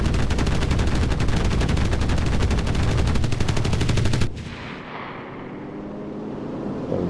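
A 30mm cannon in the combat game Enlisted fires a loud, continuous rapid burst for about four seconds, then cuts off abruptly, leaving a fading rumble of background battle noise.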